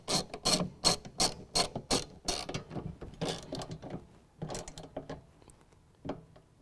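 A ratchet clicks rapidly in bursts while bolts tighten into nutserts on a 2016 Toyota Tacoma truck bed, close and metallic, followed by slower, scattered clicks and rubbing as the work eases off.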